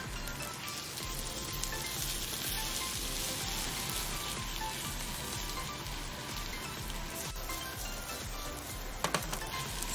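Bitter melon and egg stir-frying in oil in a wok, a dense, steady sizzle with crackling spatter running throughout, close and fairly loud, with a few sharper clicks near the end.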